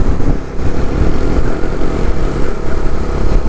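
Motorcycle engines drone steadily and close by during a ride in the Spiti Valley, with wind rumble mixed in and no speech.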